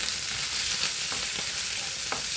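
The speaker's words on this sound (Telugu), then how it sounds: "అలాగే కరివేపాకండి, ఉల్లిపాయలండి, పచ్చిమిరపకాయలు అన్నీ వేసానండి." Curry leaves, chopped onions and green chillies fry in a pan for a cabbage, coconut and egg stir-fry, giving a steady close sizzle with a few small pops and light stirring, no voices.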